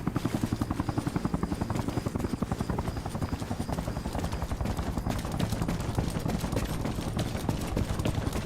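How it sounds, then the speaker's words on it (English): A helicopter approaches in the military video game Arma Reforger, its rotor beating in a fast, steady, loud thump that holds for the whole stretch without a break. "Heli inbound."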